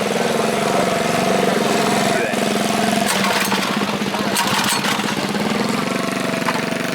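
A cold motorcycle engine, started on the choke, runs at a steady, loud, close-up idle with a rough mechanical chatter throughout, a few louder clattering bursts in the middle, and light talk underneath.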